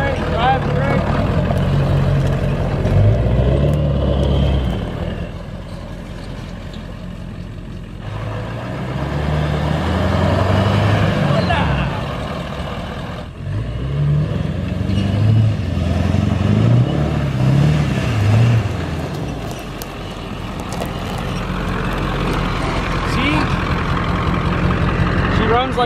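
A 7.3 diesel truck engine runs with a rough, low idle rumble that surges and eases in waves, close and loud, with a person talking over it at times.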